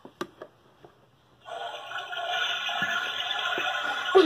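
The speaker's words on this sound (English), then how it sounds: "Elmo, now flush the potty." A toilet flushes in a home bathroom, a steady rushing of water that starts abruptly after a few small clicks and keeps running at moderate level, with no voices over it.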